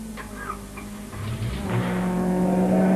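Saloon race car engines at Snetterton circuit during a national saloon cup race, one car spinning toward a gravel trap; engine roar builds from fairly quiet to a loud, sustained drone as cars pass and accelerate.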